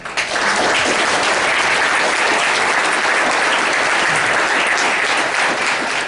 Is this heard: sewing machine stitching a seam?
no